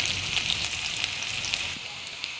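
Sliced onions sizzle in hot oil, making a steady crackling hiss with scattered pops as they are stirred, close by, the sizzle easing a little toward the end.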